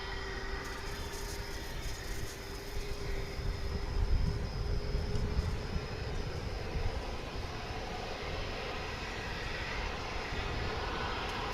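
MD jet airliner taking off from a DFW runway, a continuous jet engine roar at moderate distance that swells slightly and then holds steady, with no talk.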